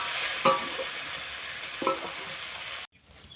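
Ingredients fry in hot oil in a pan for Bengali khichuri, a steady close sizzle broken by two sharp spatula knocks before the sound cuts off abruptly near the end.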